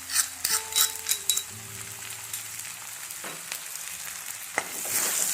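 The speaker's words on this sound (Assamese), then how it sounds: "ভাজি হোৱাৰ পিছত এতিয়া মই বাটি থোৱা নহৰু আৰু আদাৰ পেষ্টখিনি ইয়াতে দি দিলোঁ।" Garlic and ginger paste sizzles as it hits hot oil in a pan for a home-cooked breakfast, with steady frying hiss, scattered clinks of a spoon against metal, and stirring scrapes close by; no voices.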